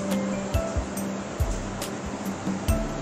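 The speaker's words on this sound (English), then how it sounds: "Cox's Bazar Sea Beach." Surf at Cox's Bazar Sea Beach, a steady roaring wash of waves punctuated by repeated close splashing thuds every half second or so, with no talking.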